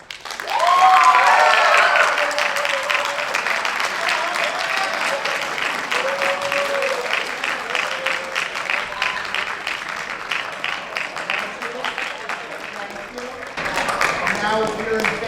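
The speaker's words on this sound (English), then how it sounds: "I'd like you to vote with your applause." A high school debate audience applauds to cast a vote on a water-restrictions motion, dense clapping swelling loud at once and holding steady for about fifteen seconds, with a few whoops and voices mixed into the crowd noise.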